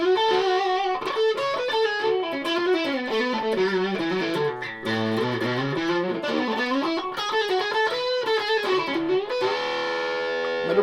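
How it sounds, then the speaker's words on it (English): Heavily distorted electric guitar through a RAT distortion pedal, playing sustained chords and bending notes, thick and loud throughout with no pauses. "let's try and see what the pickup selection sounds like with a distortion pit, with a rat pedal on."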